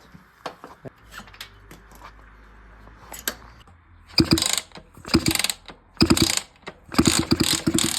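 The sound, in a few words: moped engine cylinder being pulled off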